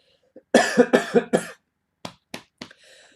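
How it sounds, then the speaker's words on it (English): A person coughs several times in a quick burst, then a few shorter, softer coughs follow after a brief pause, close to the listener. "Coughing is starting to get real."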